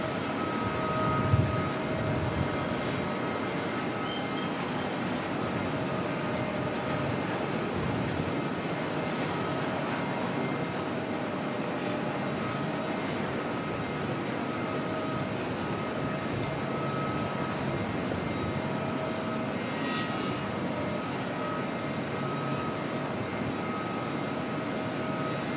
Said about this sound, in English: Barry Air aircraft there just coming in from Great Barrier Island